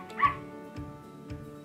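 Puppy whimpers and yips played back by a Google Home smart speaker: three short, soft whining calls spaced about half a second apart over a low background hum.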